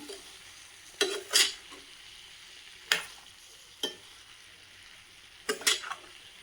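A spoon scrapes and clatters against a pan while a pumpkin stir-fry, parangikai poriyal, is mixed, with a few scattered strokes over a faint background sizzle and no talking.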